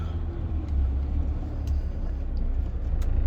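A truck hauling wood chips creeps into position beside a wood chip bunker, its engine a low, steady, close rumble without speech.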